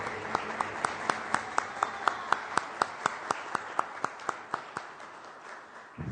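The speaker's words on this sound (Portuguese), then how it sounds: "recebê-lo com uma salva de palmas aí de todos os vereadores" City council members applaud during an ordinary council session, a brief round of clapping with distinct, evenly spaced claps that carry a steady rhythm, fading slightly toward the end, with no voices over it.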